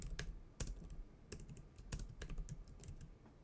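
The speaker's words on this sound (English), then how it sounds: "I am typing this on the MacBook Pro." Typing on a MacBook Pro keyboard, a quiet, close series of irregular key clicks with brief pauses, no one talking.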